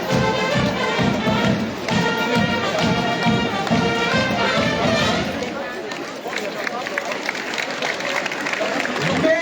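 Crowd at a Club Taurin bullfighting event in Pernes-les-Fontaines giving sustained, dense applause of fast overlapping claps, with a voice over a loudspeaker audible through it.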